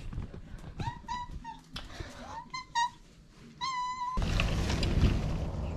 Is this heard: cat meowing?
yes